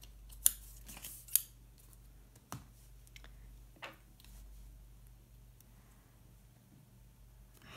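Scissors snipping through a sheet of label paper at a desk while setting up a homeschool planner: two sharp close snips near the start, then a few fainter cuts and handling noises over a quiet steady hum.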